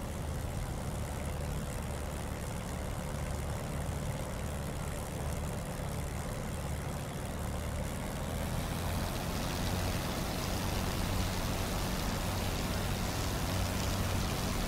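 A Spitfire IX piston engine warming up in the DCS flight simulator: a steady, continuous rumbling drone with broadband roar, holding constant throughout without pauses, rising slightly in brightness toward the end.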